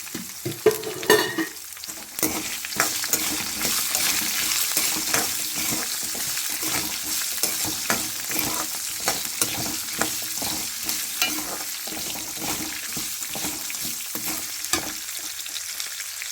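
Onion and garlic fry in hot oil for a fenugreek chutney, giving a steady loud sizzle while a utensil stirs and scrapes the pan in quick repeated strokes, close up and without talk.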